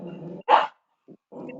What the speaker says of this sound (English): Sorry, my dogs are fighting over bones.